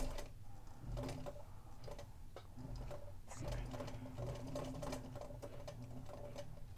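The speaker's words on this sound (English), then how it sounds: "just sew. I'm doing this at a slight angle from my machine" A sewing machine stitches fabric for half-square triangle quilt blocks, a steady mechanical whir with rapid ticking that runs continuously, close and moderately loud.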